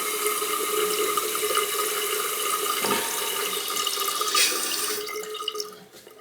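Water runs steadily into a toilet tank with a faulty, sticking float, a constant close hiss and trickle that thins out near the end.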